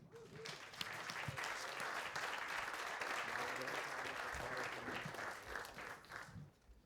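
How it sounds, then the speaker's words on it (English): An audience at an investor summit applauds for a guest speaker, a sustained, even burst of many hands clapping, fairly distant and quiet, tapering off at the end. "Please, an applaud for Ben"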